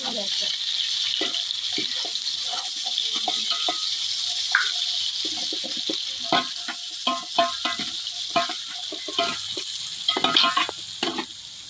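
Oil heats in a pan for soyabean fried rice, making a constant bright hiss with scattered clinks and scrapes of a spatula that grow busier toward the end.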